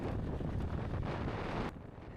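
Strong wind blows across the microphone in a steady broadband roar at a cold mountain bike race stage in Nova Lima, easing slightly near the end.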